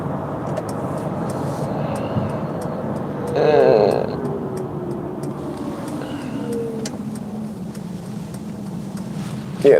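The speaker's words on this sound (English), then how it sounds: "Yeah, the motors sound nice." A Mercedes EQV 300 electric van on the move carries a steady road and cabin rumble, with a brief rising motor whine swelling midway before settling back, and no speech.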